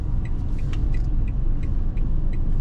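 A Citroën C3 1.0 Turbo pulls over to park on a city street, its low steady rumble and tyre noise continuous and close, with faint light clicks over the engine.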